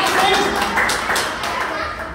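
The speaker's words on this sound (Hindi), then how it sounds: "तो उसके लिए एक बार जोरदार तालियां।" Audience applause rings out in a hall during a cricket tournament presentation ceremony, a dense steady patter of clapping that stays loud throughout with faint voices mixed in.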